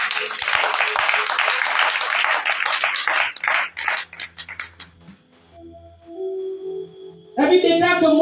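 A church congregation bursts into loud, dense applause for several seconds, fading out as a voice begins speaking over a quiet hall.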